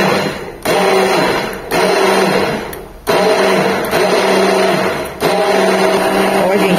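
A stick mixer blends egg yolk into homemade mayonnaise with a loud, close motor whine. It runs in several long bursts with short dips between them, and no one speaks over it.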